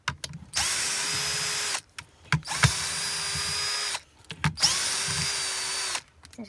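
Power drill spinning in three sustained bursts with short pauses between, unscrewing four bolts from a Wagner Control Pro paint sprayer during a repair to replace its oil seals; close and loud, no talk.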